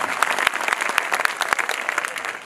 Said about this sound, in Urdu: میں چاہتا ہوں ایک بار تالی بجا کر کے مجھے ماحول دیں تاکہ میں ایک نظم آپ کو سناؤں۔